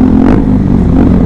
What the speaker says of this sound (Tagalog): Ang ingay na motor ng isa dyan.